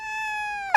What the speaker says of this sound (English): Here's the kitty. Oh, meow into the little microphone.